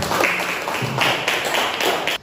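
Applause from a school classroom audience, steady clapping for about two seconds that stops abruptly at the end.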